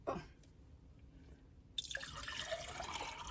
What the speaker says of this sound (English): let me get some water in here and I will show you